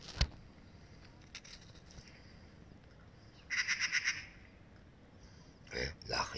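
Birds calling outdoors, with a quick run of repeated chirps midway and another short burst near the end, fairly clear over a low, steady background hiss.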